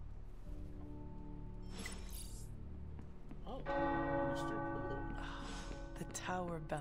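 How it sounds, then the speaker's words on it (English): Tower bells ring in the video game Midnight Suns, sounding as resonant, sustained tolls that build and layer over a low background hum, with a voice speaking over part of the ringing. "Tower bells are ringing."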